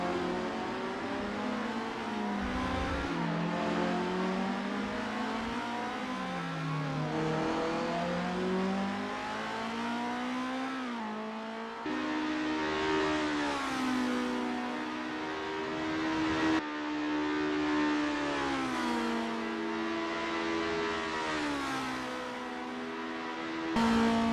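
Estonia-25 race car engines in a racing video game practice session at Lake Garnett 1963, a steady drone of revving engines with rising and falling pitch sweeps as the cars accelerate and shift, continuous and moderately loud throughout.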